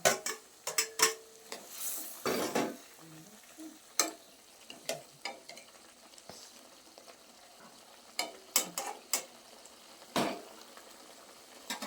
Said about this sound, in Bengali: এবার আমি মাছগুলো ঝোলের মধ্যে দিয়ে দেবো।